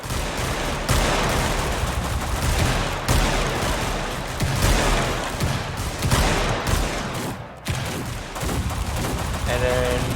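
Dense video-game gunfire salute for a retirement, volleys and bursts of shots layered continuously for ten seconds, loud and close with no pauses.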